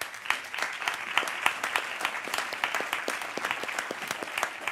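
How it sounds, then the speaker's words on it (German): Sustained audience applause for the host and moderator, Dr. Martin Emrich, at a live talk event: dense, steady clapping from a crowd with individual sharp claps standing out, continuing evenly throughout. "Nochmal einen herzlichen Applaus für unseren Gastgeber und Moderator Dr. Martin Emrich."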